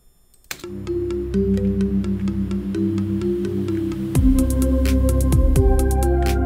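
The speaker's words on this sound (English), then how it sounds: "Then I try to add a reverb, so the sound like this." Balinese gamelan-style music built in a DAW for an epic orchestral piece, with reverb added: metallic struck tones ringing in steady rhythm, a deeper, fuller layer joining about four seconds in, loud with no talking.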